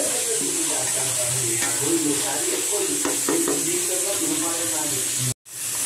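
Masala for mutton dum biryani frying in hot oil gives a steady sizzle with occasional stirring scrapes under a voice, cutting off abruptly near the end.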